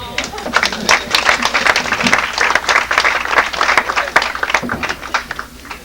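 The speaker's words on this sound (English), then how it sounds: "Let's have a round of applause for her." An audience at a stage show claps for a female volunteer called up from the crowd, a loud, fairly close burst of irregular hand claps lasting several seconds, with a few voices faintly underneath.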